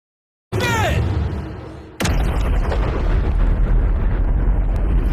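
A large bomb detonates with a sudden loud boom, followed after about a second and a half by a second powerful blast. The deep rumble keeps roaring on.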